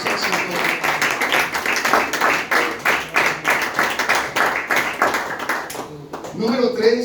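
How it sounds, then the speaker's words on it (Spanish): Congregation at a church service claps in a brisk, even rhythm, loud and close, with voices mixed in; the clapping stops near the end as a voice carries on. "Denle aplausos al Señor."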